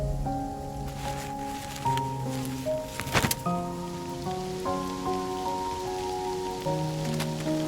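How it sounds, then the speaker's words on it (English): Rain falling during the rainy season, a soft steady patter under sustained musical tones, with a brief louder splash partway through. "It's raining again."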